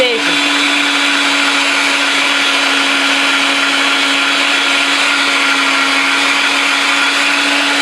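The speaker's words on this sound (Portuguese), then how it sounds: "o chantilly já começou a descolar da própria batedeira, já está a colar nas paredes" A stand mixer whips chantilly cream at high speed, a loud, steady electric whine with a constant motor hum that continues unbroken, close by and without pauses.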